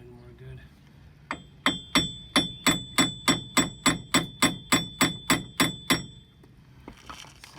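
Front wheel bearing parts on a Chevrolet Cobalt SS are struck with a hammer: about fifteen evenly spaced, ringing metallic taps, close and distinct, with quiet shop ambience before and after.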